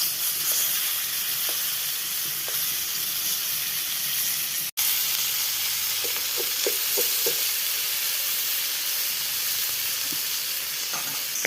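River fish (sonabogo) fries in hot oil, a steady close sizzle and hiss with a few soft stirring clicks and taps throughout, no talking.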